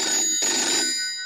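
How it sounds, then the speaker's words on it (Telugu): A telephone rings in a Telugu movie scene, a loud electronic ring tone sounding clearly on its own with no voices. "అదిగో ఫోన్ కూడా మోగింది."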